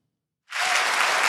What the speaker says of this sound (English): Applause for the answer.